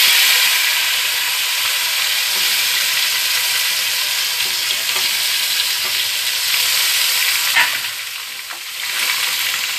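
Chopped tomatoes added to a frying pan, a loud, close, continuous sizzle with a few stirring clinks near the end and no voices.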